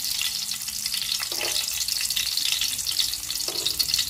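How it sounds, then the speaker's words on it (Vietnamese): Vegetarian chicken sizzling as it fries in a pan of hot oil, a steady, close crackle with occasional light stirring clinks, no talking. "Các bạn chiên sơ như thế này thì làm cho cái thịt gà của mình một lát nữa, cái gà chài của mình một lát nó sẽ dai và ngon hơn nha các bạn"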